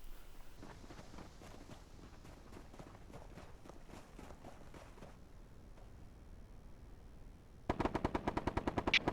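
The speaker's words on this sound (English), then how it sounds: "Audible gunfire south of 1-1, possibly near 1-2's position." Bursts of rapid gunfire in the video game Bellum pop in quick rhythmic volleys with softer scattered shots, ending in a louder close burst of automatic fire.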